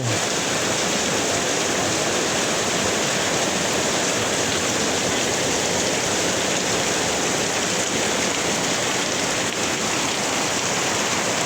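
Steady, dense rush of heavy rain pouring down without a break, loud and close, filling the whole stretch with no voices.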